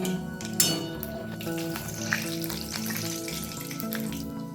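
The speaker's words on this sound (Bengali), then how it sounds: "ওই তেলের মধ্যেই অল্প একটু কালো সর্ষে আর একটা শুকনো লঙ্কাকে ফাটিয়ে নিয়েছি," Black mustard seeds and a dried chili crackle in hot oil, a close sizzle broken by sharp pops and crackles, with a low steady hum beneath and no speech.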